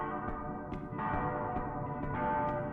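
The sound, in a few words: ringing chimes in a video game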